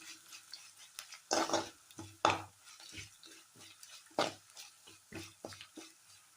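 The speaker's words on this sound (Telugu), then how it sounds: "ఒక 3 స్పూన్స్ మనం కొబ్బరి పొడి వేసుకుందాం. వేసుకొని దీనిలో చక్కగా వేయించుకుందాం." A spoon stirs coconut powder in a pan in short, uneven strokes that scrape and rustle close by, over a faint sizzle with quiet gaps between them.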